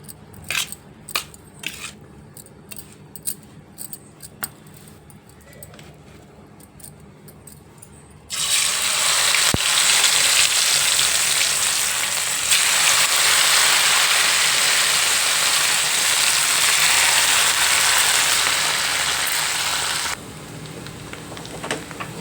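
Potatoes frying in a pan for an aloo kurma, a steady loud sizzle that swells suddenly after a run of light clinks and scrapes and carries on for several seconds before easing off, no talking.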